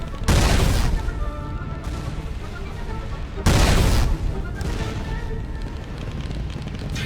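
Cannon fire at mines in the Roblox game Space Wars: two heavy booming blasts a few seconds apart, each trailing into rumbling explosion noise over a continuous loud battle din.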